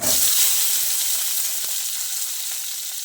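Onion and tomato sizzle and fry in a pan while a rasam is made, a steady bright hiss that starts strongest and eases slightly, with one faint stir partway through and no talking.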